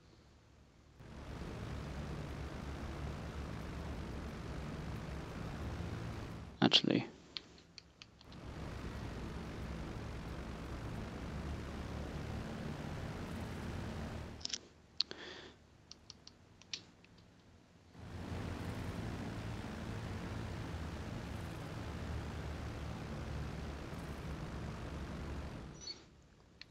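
Small propeller planes in a video game drone steadily in three long passes, each cutting off abruptly, with brief clicks and creaks between them.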